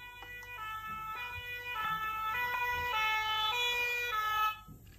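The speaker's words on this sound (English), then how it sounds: "Is it a fire engine?" A cartoon fire engine siren sounds in a clean, stepped two-tone pattern that repeats for about four seconds, then cuts off abruptly.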